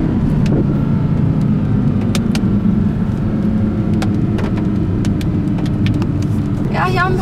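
A Porsche GT3 sports car rumbles past on a road, its engine a steady low drone with some mid-range growl, while people talk over it throughout.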